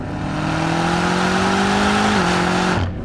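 A BMW M5 CS with a 4.4-litre twin-turbo V8 accelerates hard, its loud rising engine note climbing steadily with a brief dip at a gear change before tailing off, heard alone without talk.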